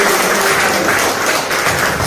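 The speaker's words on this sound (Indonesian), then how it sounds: "Tepuk tangan untuk teman-teman." A loud, dense round of applause from a talk show audience, many hands clapping together in a continuous wash.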